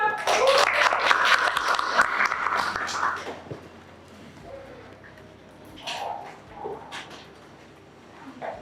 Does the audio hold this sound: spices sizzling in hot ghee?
no